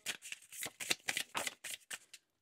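Tarot cards are shuffled and drawn by hand: a run of quick papery riffles and flicks in irregular bursts, close and soft, ending in silence.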